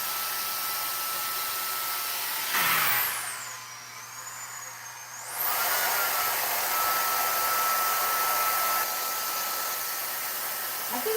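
A hair dryer blows steadily and loudly on a small section of hair being straightened, briefly muffled in the middle of the run before its full roar returns and continues to the end.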